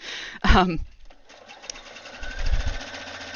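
A sewing machine stitches appliqué fabric, with a short loud burst near the start followed by quieter mechanical running and a low rumble toward the end, with a voice talking over it.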